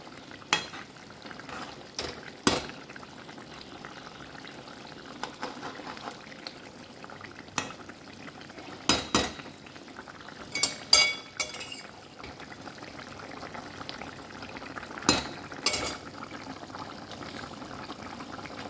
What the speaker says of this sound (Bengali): ঝিঙে দিয়ে মাছের ঝোল পাতলা, একটু ফুটবে তারপর আমি নামাবো